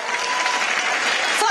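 A hall audience of students applauds in a dense, loud burst of clapping that holds steady throughout, with no voices rising above it.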